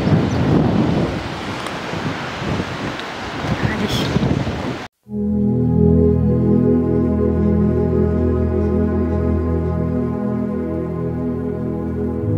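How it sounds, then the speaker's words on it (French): Strong coastal wind on Tenerife buffets the microphone with a rough, gusting roar for about five seconds, then cuts off abruptly into a steady, droning tonal hum. "il y a du vent"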